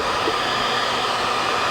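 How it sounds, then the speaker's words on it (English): A heat gun or hair dryer blows steadily and close up, warming dried glue on a wooden pie safe panel so the tape will release; the airflow gives a constant, even whoosh with no talk over it. "get your heat gun or hair dryer."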